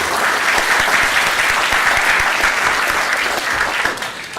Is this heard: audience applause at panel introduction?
yes